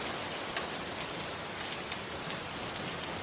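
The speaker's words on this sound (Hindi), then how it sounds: "बरसात काफी तेज हो रही थी और बंद नहीं हुई" Heavy rain pours down in a dense, steady hiss with no pauses and no voices.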